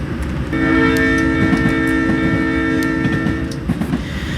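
Air horn of a BNSF Dash 9 (C44-9W) locomotive in Train Simulator 2022, one long steady chord-like blast of about three seconds, loud and close over a rumbling engine and rail noise.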